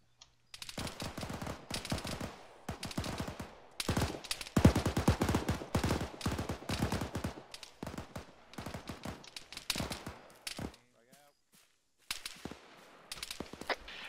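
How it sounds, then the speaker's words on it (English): Gunfire in the military shooter Arma 3 during a jungle warfare operation: dense bursts of automatic rifle fire and sharp single shots crackle in rapid clusters, with short lulls between volleys and no talking. "Shots coming northeast."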